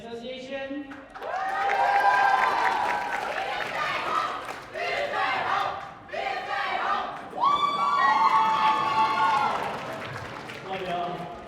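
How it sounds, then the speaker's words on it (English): A large student crowd at a campus cultural event cheers, screams and shouts in loud sustained waves with whoops and brief dips, close and energetic throughout. "if you're in the crowd, scream, shout, show off how awesome you guys are"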